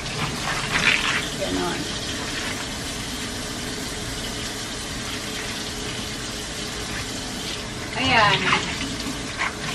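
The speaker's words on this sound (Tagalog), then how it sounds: "Tapos hugasan ko ulit yung pamunas ko." Running tap water splashing steadily as a cleaning rag is washed under a faucet at home, a constant rushing stream with brief louder splashes, and someone speaking briefly over it.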